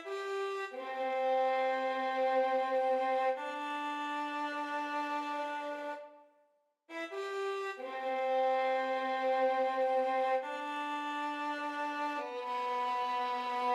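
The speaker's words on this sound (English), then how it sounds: "Then I added this violin counter melody." Sustained bowed violin counter melody in a hip-hop production arrangement, long held notes with steady harmonics, loud and alone, with a brief pause midway before the line resumes.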